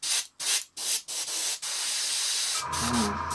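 Airbrush spraying paint: several short sharp hissing bursts at first, then one long continuous spray, with a faint low sound entering toward the end, close, no talking.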